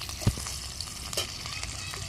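Bay leaves sizzling in hot oil in a home kitchen, a soft continuous fry with a couple of small crackles and stirring clinks, fairly quiet.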